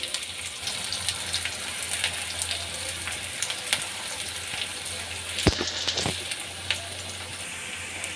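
Chicken and onions frying in hot oil until crisp and brown like birista, a dense continuous sizzle with crackling pops and a couple of sharp louder spits near the end, no voices.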